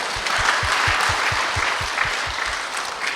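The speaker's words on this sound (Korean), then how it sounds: "하나님께 영광의 박수" Korean church congregation giving rhythmic applause, claps landing in a steady beat of about three per second over a continuous bed of scattered clapping, loud and sustained.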